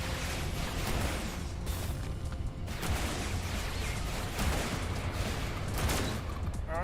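Incoming missiles and weapons fire in the space combat game Everspace 2 form a dense, continuous barrage of blasts and crackling shots, loud and close, with sharper explosive hits scattered through.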